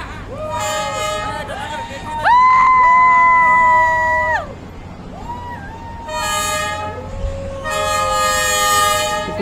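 A train passes along Hanoi's narrow train street, sounding long, loud horn blasts several times, with rumbling under the toots and people talking nearby.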